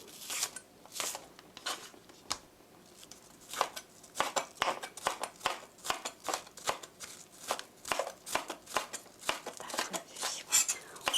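A knife minces green onions on a cutting board for a braised chicken dish, giving fast, steady chopping taps close up with no one talking.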